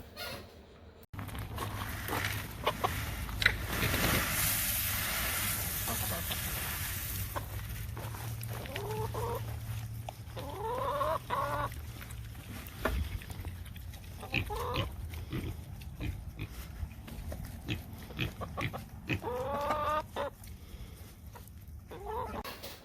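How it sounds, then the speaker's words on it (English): Chickens and pigs squabble over food, with grunts, oinks and clucking squawks coming in bursts over a steady low background hum, fairly near and busy throughout. "Wow, those chickens really went after that stuff, didn't they? And the pigs too."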